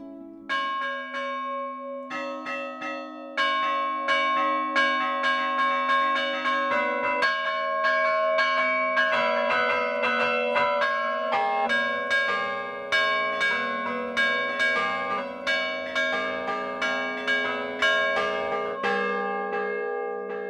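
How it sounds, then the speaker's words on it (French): Large tuned carillon bells in the Alpes-Maritimes ring out a melody, struck one after another in a steady rhythm with long overlapping resonance, clear and fairly close. "Les bras et les jambes du carillonneur sont reliés à 4 cloches"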